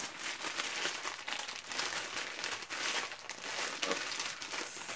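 Plastic packaging holding a South Park t-shirt is opened, giving continuous close crinkling and rustling that rises and falls in short bursts with no voices.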